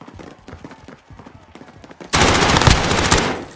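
Gunfire in a war video game: scattered sharp shots and thumps first, then a loud sustained burst of rapid automatic fire takes over for the last second and a half.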